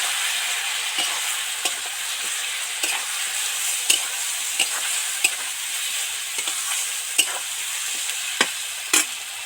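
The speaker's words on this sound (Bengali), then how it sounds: "মশলাগুলো তো ভাজা ভাজা হয়ে গেছে" Spices fry and sizzle in hot oil in a pan while being stirred for a katla fish curry, a steady hiss broken by regular scraping clicks of the spoon, close and alone.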